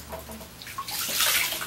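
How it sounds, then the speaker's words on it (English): Cold water gushes from a tap into a bathtub, a close, loud rushing splash that swells toward the end. "I had to run some water, cold water in here."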